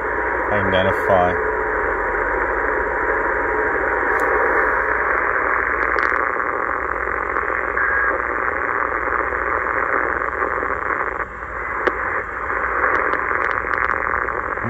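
Steady, dense longwave radio noise hisses and hums continuously from a Tecsun PL-990X receiver on its internal ferrite antenna, with faint brief clicks and tonal blips over the constant static.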